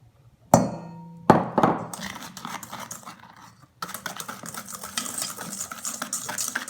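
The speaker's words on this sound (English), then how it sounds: "And you have to mix a bit." Pastry cream mixture is stirred in a bowl. Two sharp clinks open the clip, followed by quieter scraping and then steady, fast stirring that continues to the end.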